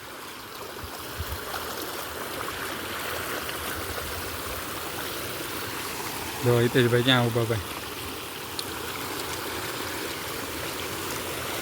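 A stream of water flows steadily at a car-washing spot near a hill temple, a constant close rushing trickle, while a man briefly calls out to someone partway through.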